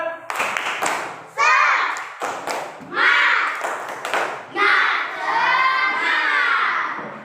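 Children in a classroom clap out a rhythmic cheer in bursts, their claps and shouting voices rising together in several loud waves across the scene.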